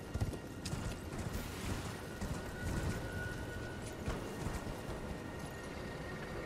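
Horse hooves galloping across terrain in Elden Ring, a steady quick clip-clop rhythm running throughout at moderate distance with soft game ambience behind it.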